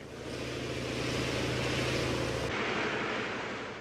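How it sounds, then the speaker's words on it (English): Machines on a film set generating artificial wind and waves, a loud continuous rushing surf-like roar with a low mechanical hum that cuts out partway, no voices. "the noise made by the machines used to create the wind and waves"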